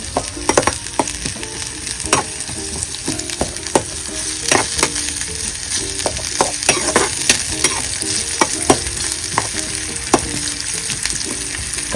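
Onion and masala paste are stirred and fried over a wood-fired stove for village-style chicken curry. A loud, close sizzle runs throughout, punctuated by repeated rhythmic scrapes and knocks of the spatula against the pan.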